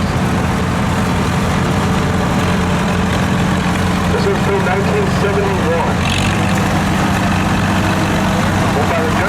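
A 1971 International 1456 tractor idles at the Rock River Thresheree in Edgerton, Wisconsin, its engine a loud, steady, close low rumble throughout while someone talks over it.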